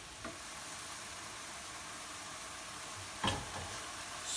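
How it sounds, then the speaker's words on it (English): Lots of mushrooms frying in a pan for a pasta sauce, a steady close sizzle broken by a couple of brief stirring clacks. "This recipe seems to call for lots of mushrooms, so now we'll just fry those up"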